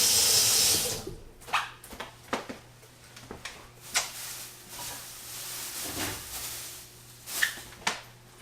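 Water runs from a kitchen tap while salad greens are washed in the sink, a steady faint stream broken by repeated splashes, knocks and rustles of handling in an irregular rhythm.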